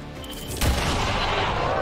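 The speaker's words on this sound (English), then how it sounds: "Go ahead and use face off so you can shoot at both of them." A sudden loud burst of gunfire from the Face Off ability in XCOM 2: War of the Chosen, striking at once and followed by a sustained rumbling wash of noise that holds to the end.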